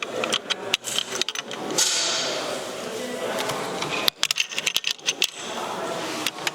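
Metal parts of an M1 Garand rifle clack and click as the bolt is slid back into the receiver, a run of sharp close taps and scrapes with a brief rustling stretch, with soft talk at times.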